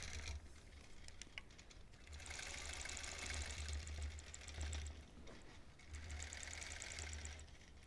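A quilting machine stitches a Double Wedding Ring topper in a rapid, steady whirring hum that runs in long passes with brief pauses, close and fairly quiet.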